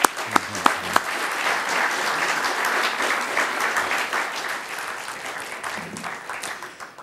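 A lecture audience breaks into sustained, even applause to welcome Professor Dr. Joseph Huber, opening with a few isolated claps and holding steady for several seconds.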